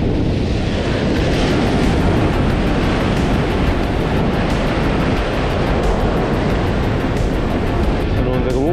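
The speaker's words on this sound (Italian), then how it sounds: "Sono onde comunque grosse" Big sea waves break and wash on the shore in a constant heavy roar, loud and close, mixed with wind buffeting the microphone and no pause throughout.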